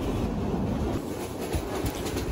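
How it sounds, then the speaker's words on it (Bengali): A passenger train running at speed produces a dense, continuous rumble and roar with rhythmic clatter, heard from inside the carriage with no voices. "আমাদের ট্রেন দুর্বার গতিতে ছুটছে।"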